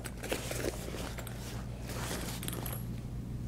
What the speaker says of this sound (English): And then I'll open up the zipper.